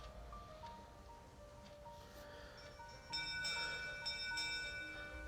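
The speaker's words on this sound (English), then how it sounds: "a loud bang on a bell rang through the night, coming from the crow's nest" The Titanic's crow's nest warning bell rings faintly at sea at night, struck a few times in quick succession, each strike leaving a lingering metallic ring over a quiet background.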